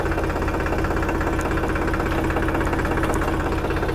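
A tractor engine runs in high gear with a steady, dense diesel rumble and constant mechanical vibration, close and without pauses.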